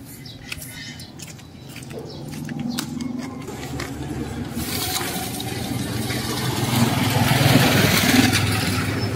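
Water gushing from a newly sunk PVC pipe well under suction, a rising broadband rush that builds louder over several seconds with scattered splashing and background outdoor noise.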